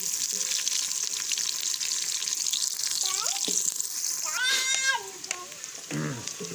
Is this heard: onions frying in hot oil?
yes